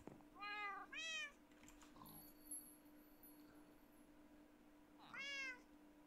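A cat in the Minecraft video game meows three times, each call short and clear, over faint game ambience with no talking.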